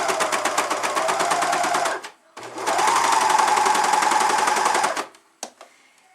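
A serger stitching around the edge of a cloth diaper, rapid mechanical chattering in two bursts, the first about two seconds and the second about two and a half, separated by a brief pause and ending with a small click.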